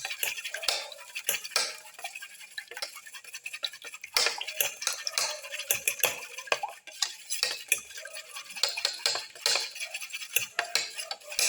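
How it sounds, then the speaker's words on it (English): Egg yolks and whites are beaten together in a bowl for an omelette, with rapid clinking and scraping of a utensil against the bowl in irregular bursts throughout, close and fairly quiet. "Mix the yellow and the white portion of the eggs together"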